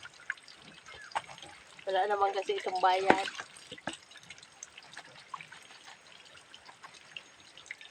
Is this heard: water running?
yes